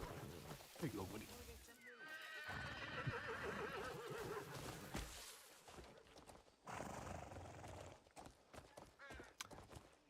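A horse in a video game whinnies with rising, wavering neighs, mixed with clip-clopping hooves and people talking over it.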